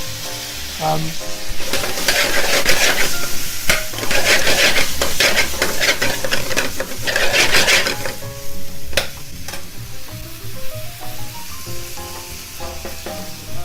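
Onions and peppers stirred and sizzling in a pan for Bombay potatoes, a steady frying hiss broken by repeated scrapes and clinks of a utensil against the pan, close and fairly loud, with no talking.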